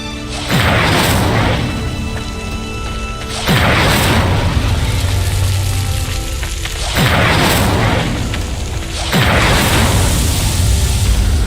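Incendio fire spell cast in Hogwarts Legacy, flames erupting onto a pyre: four loud booming whooshes at roughly three-second intervals, each a sharp burst that trails into a sustained roaring rumble.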